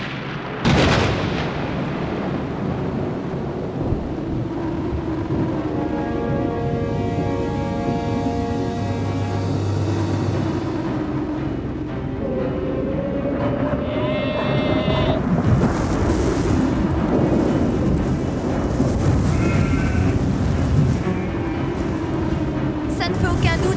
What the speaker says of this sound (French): C'est une tempête de sable qui est en train de se former.